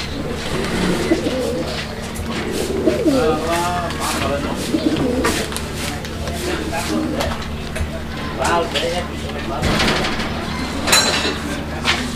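Pigeons coo repeatedly in a loft as people talk nearby, the soft throaty calls rising between voices alongside light clattering and scattered small knocks.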